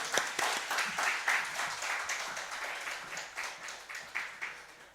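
A church congregation at a Sunday worship service applauds to welcome the preacher, a soft, steady patter of many hands clapping at a distance, with no voices over it.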